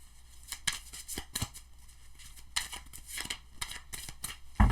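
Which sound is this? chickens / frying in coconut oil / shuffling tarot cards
shuffling tarot cards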